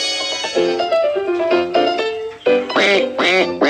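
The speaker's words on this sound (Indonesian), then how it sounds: "Bebek." Loud nasal duck quacks, a run of repeated calls ending in a few sharper, closer quacks, with no talking.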